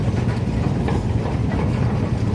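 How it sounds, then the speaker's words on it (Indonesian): A sugar mill lorry train pulled by locomotive number 6, a continuous low rumble of rolling wagons and engine with no talk. "masih ada kereta lori kosongan lagi"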